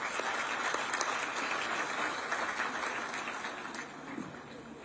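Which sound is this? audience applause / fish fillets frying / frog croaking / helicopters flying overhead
audience applause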